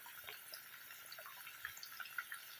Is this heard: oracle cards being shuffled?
no